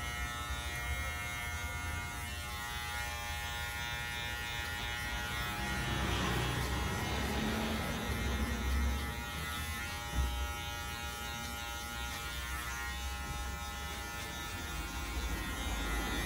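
Electric hair clippers buzz steadily and close throughout a barber's anatomical-style haircut on a man's head, a continuous motor drone swelling slightly as the blades move through the hair.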